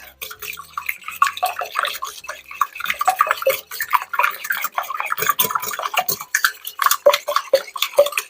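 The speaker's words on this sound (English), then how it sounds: "We're going to whisk that up." Eggs are whisked in a bowl, a fast, irregular stream of close clicking and sloshing strokes that runs throughout with brief pauses.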